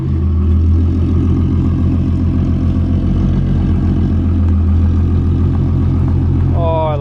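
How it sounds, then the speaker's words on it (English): An Audi 24-valve engine cold-starts and settles into a loud, steady, rhythmic idle with a deep throbbing pulse, and a brief voice enters near the end. "Oh, the glorious sound of a 24 valve."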